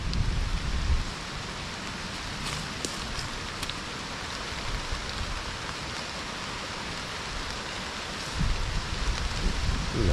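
Steady rain pours down on a cassava field, a dense, even hiss holding for the whole stretch and swelling slightly louder near the end, with no voices.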